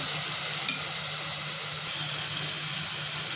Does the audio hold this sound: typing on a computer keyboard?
no